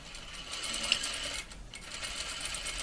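Sewing machine back stitching at the start of a French seam, a close, steady mechanical whir with a rapid stitching rhythm, pausing briefly midway before running on.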